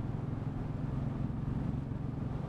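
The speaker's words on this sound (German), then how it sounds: "der Klang von dem Shorty, also von diesem 30 cm Auspuff da" A Royal Enfield motorcycle with a 30 cm short exhaust drones steadily with a deep, throaty exhaust rumble, a continuous low growl at constant revs without talking.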